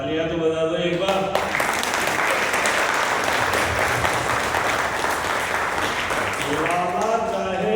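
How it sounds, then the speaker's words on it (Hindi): Audience applause at a grand seminar in Vasco, Goa, a dense, loud, steady clapping from a large crowd that swells after a brief intro and carries on for several seconds, with musical tones sounding at the start and end. "तालियां तो बजा दो एक बार।"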